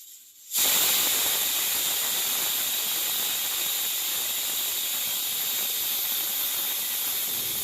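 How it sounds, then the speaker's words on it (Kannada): A pressure cooker on a gas stove vents steam with a loud, sustained hiss and a high whistling tone that bursts in abruptly and runs on steadily without a break. "ಕುಕ್ಕರ್ ಅಂತೂ ನಾಲ್ಕು ಸೀಟೇ ಆಯಿತು"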